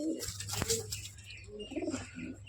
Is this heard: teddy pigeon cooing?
yes